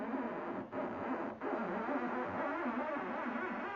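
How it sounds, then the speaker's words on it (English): A fingertip dragging across a car hood during pinstriping, a faint continuous rubbing hiss with two brief dropouts early on, soft and close. "the noise you hear is the tension from my finger on the surface of the hood"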